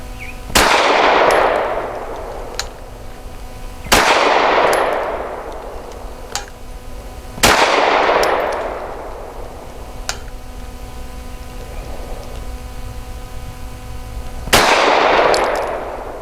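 Four sharp, loud shots from a Walther PDP 5-inch compact pistol ring out at slow, uneven intervals, each with a ringing decay, and faint metallic clinks fall between them.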